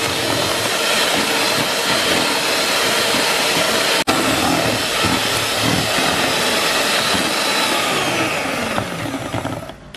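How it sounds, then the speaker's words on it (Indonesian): An electric mixer beats sponge roll cake batter made with three eggs and SP emulsifier until it turns pale and thick, a loud steady whirring drone that runs unbroken from start to finish with no talking. "Sekarang kita bakal mixer sampai putih, kental dan berjejak."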